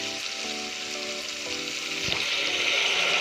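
Steady sizzling in a hot pan, then a sharper hiss as water is poured in for rasam rice and the bubbling grows louder.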